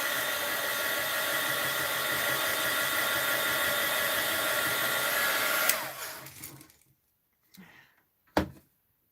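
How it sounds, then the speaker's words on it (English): A heat gun dries paint on a mixed-media art journal page, a loud close steady blowing whoosh that runs for several seconds, then cuts off, leaving faint handling clicks. "Heat gun alert. Let's just dry it a little here."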